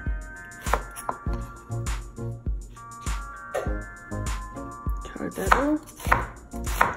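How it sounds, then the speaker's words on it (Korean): A knife chops an onion halved on a cutting board for spicy Korean sausage stew, with a steady series of close, sharp thuds against the board. A brief spoken word is heard near the end. "양파는 반으로 썰어서"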